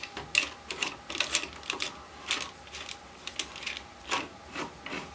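A clamp is fitted and tightened onto recycled boards, giving quiet clicks, taps and small ratcheting knocks in an irregular string nearby.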